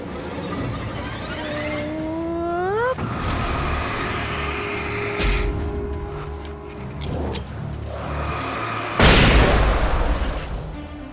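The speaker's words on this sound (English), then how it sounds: "Still some flashbangs." A flashbang in the Alan Wake video game goes off in a loud, sharp burst near the end, preceded by rising whines, rumbling and assorted game noises.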